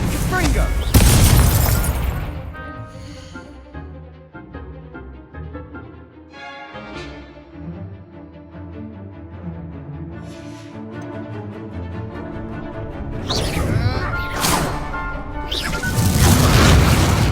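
Spell blasts in Hogwarts Legacy: bursts and crashes at the start and end, over a continuous game music bed, with a voice speaking between them.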